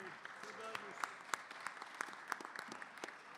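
A seated panel audience claps in a sparse, scattered round of applause, faint and distant, with a voice briefly heard underneath.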